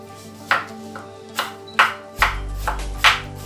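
Knife slicing an onion thinly on a cutting board for a Thai chicken feet salad, six or so distinct, sharp cuts at uneven intervals, close and fairly loud over a low steady hum.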